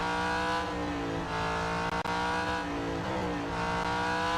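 Race cars in the Real Racing 3 mobile racing game roar steadily with a loud, sustained engine drone, a brief dip midway, and faint tire squeal, with no talking.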